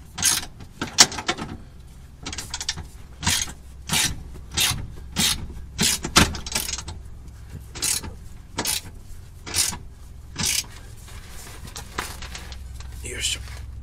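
Nuts and bolts on a CUSCO rear side power brace being tightened with 19 mm and 17 mm tools on a Subaru WRX STI VAB, with repeated ratcheting rasps in steady strokes and someone talking over them.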